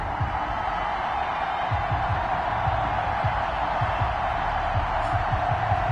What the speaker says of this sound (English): This crowd is ready as their guys get set to match up between the Carolina Panthers and the New England Patriots.